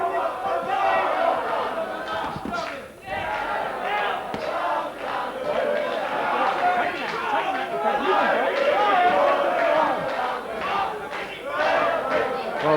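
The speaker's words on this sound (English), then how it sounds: "Well, the crowd doing their bit." Boxing crowd at a 1995 WBO Intercontinental title fight, a dense roar of cheering, shouting and chatter that swells and dips steadily throughout.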